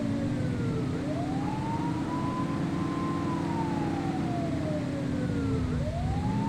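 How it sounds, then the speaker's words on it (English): Police car siren from the video game The Precinct wailing loudly and steadily, its pitch sweeping slowly up and down over a constant engine hum, with no talk. "You're only meant to use the siren in emergencies."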